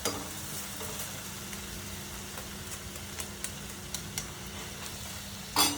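Soaked poha and sugar are stirred together in a pan, a quiet steady scraping and soft crackle with occasional light clicks of the spoon, ending in a sharper knock.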